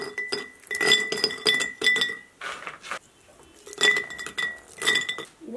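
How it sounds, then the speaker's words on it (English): Dried chaga chunks dropped and packed into glass mason jars, giving repeated bright clinks and knocks of glass in clustered bursts with short pauses between. "I'm going to get the dried stuff put away in some mason jars."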